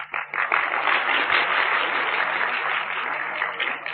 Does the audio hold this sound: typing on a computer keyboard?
no